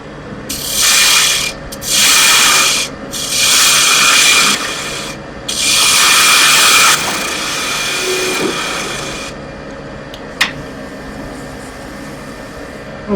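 A skew chisel cuts wood spinning on a lathe while a rolling pin is turned, giving loud, close bursts of rough shaving and rasping separated by brief pauses, then a quieter whir of the running lathe with a sharp click.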